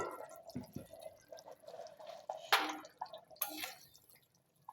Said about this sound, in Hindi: बॉयल आ रहा है।